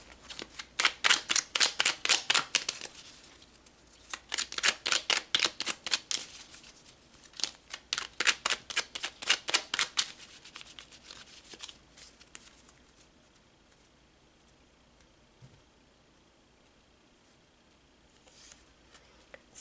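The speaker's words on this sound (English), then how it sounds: "So let's pull some more cards." Tarot cards are shuffled in quick riffling bursts, several rapid flurries in a row with short pauses between, fairly quiet and close, before trailing off into near silence.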